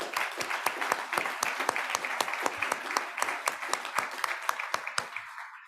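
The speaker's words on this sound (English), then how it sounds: "Let's give them a round of applause" Audience at a city council meeting clapping to honor Sterling Scholar students, a lively, fairly sparse round of applause with distinct individual claps in a quick irregular rhythm, tapering off abruptly near the end.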